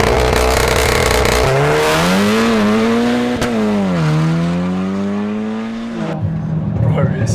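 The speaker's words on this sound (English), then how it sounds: "So as it's a Golf R, I better launch it" Heavily modified VW Golf R launching hard from a standstill, its engine note rising steeply through the gears with wheels spinning, loud and close, then cutting off abruptly near the end.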